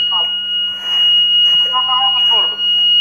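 A relay panel alarm buzzer on a 33 kV panel sounds a steady, piercing high tone throughout, with people talking over it nearby.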